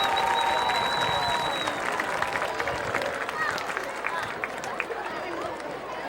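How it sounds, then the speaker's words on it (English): A crowd in the stands at a Georgia high school football game, Bacon County Red Raiders against Berrien County High, applauds the band, a broad clapping wash with scattered cheers and crowd chatter, fading slightly as a whistle-like tone trails early on. "let's give the Rebel Regiment a big round of applause"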